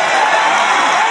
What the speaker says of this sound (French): Des applaudissements spontanés